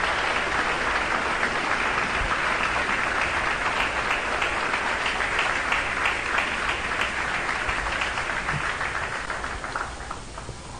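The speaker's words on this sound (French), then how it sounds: "Alors, applaudis, conférencier." A congregation at a Christian gathering on faith and politics applauds a speaker with dense, loud, sustained clapping for about ten seconds, fading slightly toward the end.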